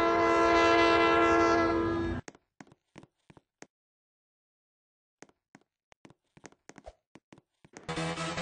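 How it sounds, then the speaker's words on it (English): A Roblox train blasts a loud horn for about two seconds, then falls quiet except for scattered faint clicks. The loud rumble and horn return near the end. "Here comes the choo-choo train"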